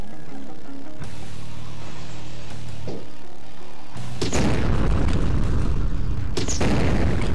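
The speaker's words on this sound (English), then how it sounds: "Oh, it's a grenade launcher." Grenade launcher blasts in the motorcycle combat game Road Redemption: a sustained low hum gives way to a heavy, rumbling burst of explosions with crackling debris, loud and close, with a second sharp blast near the end.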